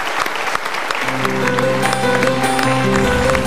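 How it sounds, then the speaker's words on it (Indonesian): An audience at a motivational seminar breaks into loud, sustained applause, dense and close, building steadily over a few seconds. "kita berikan tepuk tangan dulu"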